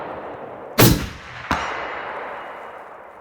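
Two sharp, loud reports from a hunting rifle fired at a 100-yard target, the first strong shot followed about half a second later by a second crack or ringing hit, each trailing into a long fading echo outdoors.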